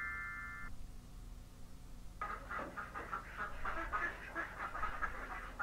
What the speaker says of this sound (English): them are chickens